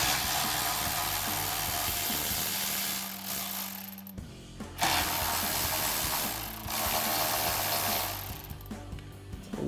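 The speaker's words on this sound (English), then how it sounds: "we're gonna grab our 13mm socket on our ratchet and just go ahead and unbolt those 2 bolts" A hand ratchet fitted with a 13mm socket clicks steadily while unbolting the brake line bracket bolts on a GMC Sierra 1500 frame, with close, dense ratcheting in several bursts and brief pauses between them.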